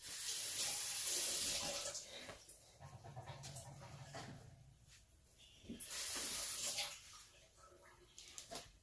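Tap water running and splashing over aloe vera leaves as they are washed at a sink, close and uneven, swelling and easing as the leaves move under the stream, with no talking.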